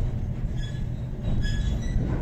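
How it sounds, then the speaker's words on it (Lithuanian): A narrow-gauge train rolls into the Panevėžys train depot, giving a low steady rumble close by with faint high squeals from the wheels. No voices are heard over it. "važiuojant į traukinių depo"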